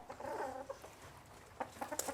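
Chickens and guinea fowl kept at a country cottage in Rutland give a few soft, scattered clucks and calls, faint and somewhat distant in a quiet setting.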